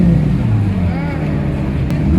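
Porsche and Ferrari sports cars driving on a Los Angeles or Las Vegas street, a steady loud engine drone with a rising note, heard from close by.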